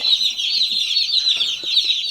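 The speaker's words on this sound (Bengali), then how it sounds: "পঞ্চাশটা ব্রয়লার মুরগি আছে সবগুলো এখন ছাড়া হচ্ছে" Fifty broiler chickens cluck and chirp as they are released by hand, a dense high-pitched chorus of calls, close and continuous.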